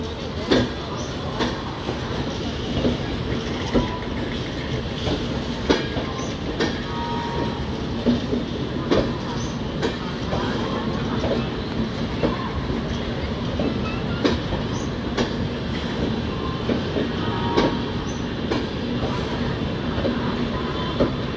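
An Agnibina Express train on Indian Railways pulls out of Howrah Junction. A steady rumble of wheels on rails carries throughout with a regular clickety-clack and occasional squeals, close and continuous with no talk.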